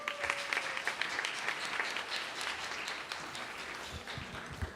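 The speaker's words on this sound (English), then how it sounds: "let's give Marina another round of applause" A Russian heritage celebration audience at Brooklyn Borough Hall gives sustained applause, with a steady wash of clapping from a sizable crowd holding fairly even throughout.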